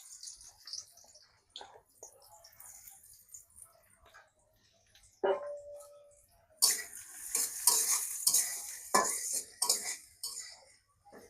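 In a hot wok, onions go into oil for a fish-paste mash, starting with quiet clinks of utensils. A sudden sizzle follows, then stirring scrapes and bursts of frying grow louder, close and with no voices.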